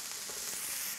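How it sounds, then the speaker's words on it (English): Diced onion sizzles and fries steadily in a hot pan as it begins to caramelize, a constant close crackle with no pauses. "Start off with some diced onion. Just let those start to caramelize a little bit."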